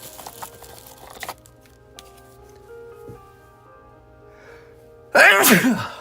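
A single loud, sharp sneeze bursts out near the end after a stretch of quiet background hum and faint sounds in a card shop.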